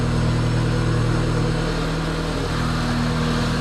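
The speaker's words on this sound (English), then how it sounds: "Listen to the motor." A car engine with a newly built exhaust tip idles steadily nearby. The low, even hum continues alone without a break.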